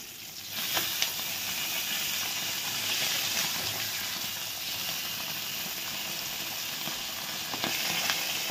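Bata fish, already fried on one side, sizzle loudly in hot oil after being flipped in the pan. A continuous close hiss runs throughout, with a couple of brief louder spits.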